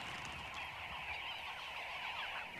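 A noisy flock of birds comes and goes at an African waterhole, a dense, continuous chorus of overlapping honking and squawking calls, steady and somewhat distant.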